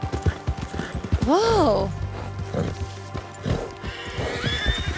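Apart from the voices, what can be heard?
horses neighing and hooves clopping in video game Red Dead Redemption II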